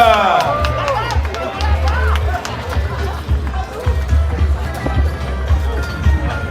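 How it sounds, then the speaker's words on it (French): Crowd applause and cheering for sailors Charles Caudrelier and Erwan Israël finishing aboard the Maxi Edmond Rothschild ULTIM trimaran, with busy clapping and babble under a loud announcer voice and thudding low rumble. "des applaudissements du public, s'il vous plaît, pour Charles Caudrelier, Erwan Israël, le Maxi Edmond Rothschild"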